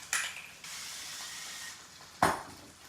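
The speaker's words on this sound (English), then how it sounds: "I do want to spray this pan again." Two short hissing sprays of cooking spray onto a skillet for quesadillas, one near the start and another toward the end, with a steady sizzle of the hot pan between them.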